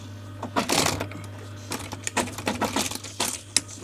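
A sewing machine runs a stitch line on an auto upholstery plain seam, giving short bursts of rapid mechanical clatter with brief pauses, close and clear over a low steady hum, no voices.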